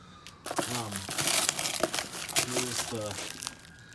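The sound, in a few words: unwrapping packaging of car wheel spacers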